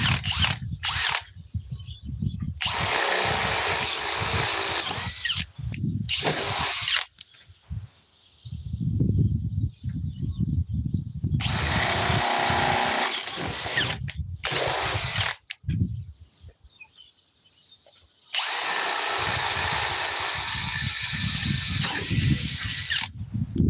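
Bosch GSB 18V65 cordless drill run on a 21700-cell battery, loud whining bursts of several seconds each separated by pauses, with rattling mechanical noise in between and no talk.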